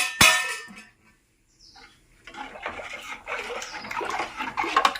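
Soaked sorghum is drained: a sharp clang of a vessel, a short pause, then a stretch of splashing, trickling water close by, ending with another metallic knock.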